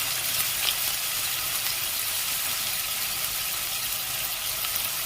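Chopped onions and capsicum sizzle steadily in a pan for an oil-free capsicum paneer curry, giving a continuous bright hiss at even loudness with no talk over it.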